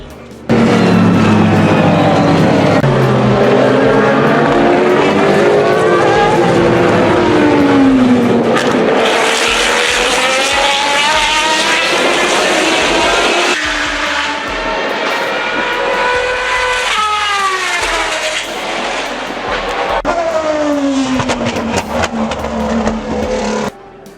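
An Aston Martin Valkyrie AMR sports car engine revs loudly and close by, its pitch repeatedly climbing and dropping through several gear changes over a long stretch, with no voices.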